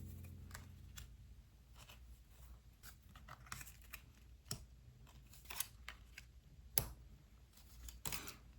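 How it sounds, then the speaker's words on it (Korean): Tarot cards drawn and shuffled from a deck at a fortune-telling reading, heard as a run of soft, brief papery slides and snaps at irregular intervals, close and fairly quiet, with several sharper flicks near the end. "그런 당신의 다음 운명의 상대는 어떤 사람일지 카드 뽑아볼게요."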